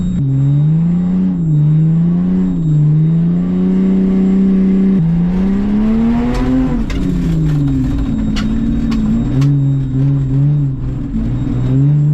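Lexus GS300 drift build engine revving loudly and close, its pitch climbing and falling through repeated rev sweeps, with a steady harmonic drone between blips.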